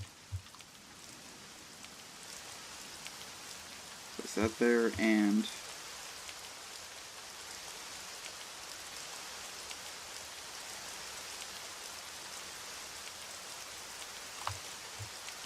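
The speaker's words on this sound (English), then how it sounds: "Of course, it's raining." Steady rain hiss from TerraFirmaCraft fills the whole stretch as an even, constant patter, with someone speaking briefly partway through.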